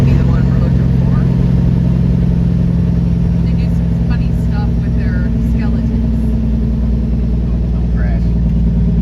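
A 6.0 engine idles with a continuous, even, deep rumble that stays loud and unchanging for the whole stretch.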